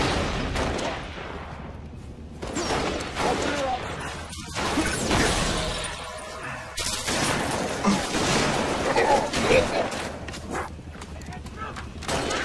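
Gunfire in the Halo Reach video game, with busy bursts and crashing impacts amid game noise, while characters talk over much of it.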